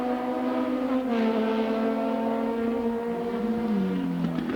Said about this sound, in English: Coming up to put a lap on car number 5, Derek Pingle in the Cheetah.